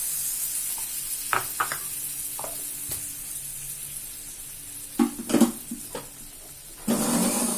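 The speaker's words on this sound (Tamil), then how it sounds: "இப்போ அந்த அரைச்சதை அந்த தயிர் அப்படியே ஊற்று" Ground coconut and curd poured into hot tempering in a pan for a Kerala-style coconut buttermilk chutney, a soft continuous sizzle broken by a few utensil clinks and stirring knocks, swelling into a louder hiss near the end.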